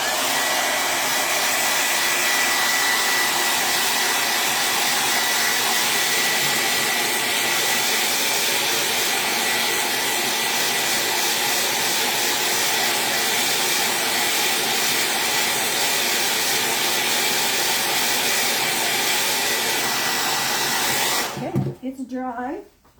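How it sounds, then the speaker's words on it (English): A hair dryer blows loudly and steadily for a long stretch, a constant rushing whoosh, then cuts off abruptly near the end with a brief clunk. "I'm going to blow dry it for just a minute. This might get loud"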